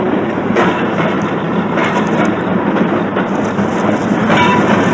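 A railroad wagon loaded with dynamite and on fire rolls along the rails, giving a steady, loud rumble with clattering and rattling that carries on throughout.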